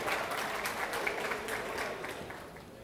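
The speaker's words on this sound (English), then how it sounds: "A round of applause for Hamid Haroon." Dense audience applause as a guest is called up on stage, steady and then slowly fading over a few seconds.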